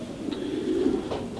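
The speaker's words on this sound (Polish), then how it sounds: "tych gołąbków mamy tutaj dosyć dużo" Racing pigeons in a loft in Zielona Góra, Poland, give a low, soft, continuous cooing drone, close and steady, with faint higher chirps over it and no talking.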